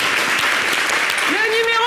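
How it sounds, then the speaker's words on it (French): Dense crowd applause fills a French-language television studio show, a steady, loud wash of clapping, with a voice rising over it near the end. "Applaudissez un peu, applaudissez un peu"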